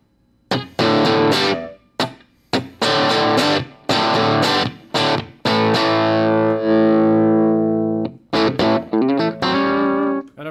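An electric guitar played through a Kemper amp profile with compression rings out in distorted chords and single notes, played in bursts with short pauses and a long sustained chord in the middle, loud and close with no talk.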